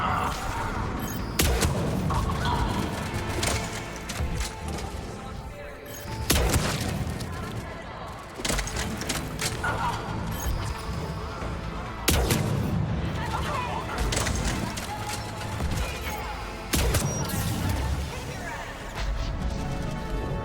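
Gunfire fills a Mass Effect 3 battle: bursts of rapid shots and heavy crashing impacts come in repeated volleys every few seconds, loud and close, while a voice talks over them.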